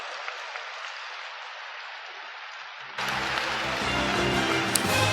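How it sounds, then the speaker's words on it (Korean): Steady applause from a large audience welcoming True Mother onto the stage at a dedication ceremony, a dense wash of clapping that swells louder midway and carries on without pause. "참 어머님을 함께 한상의 뜨거운 박수로 모시겠습니다"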